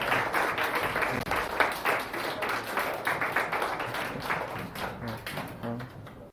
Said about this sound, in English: Could you have a round of applause for you